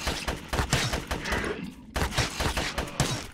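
Assault rifle fire in the shooter game GRAV, loud rapid bursts of shots with a short pause midway, then more sustained firing.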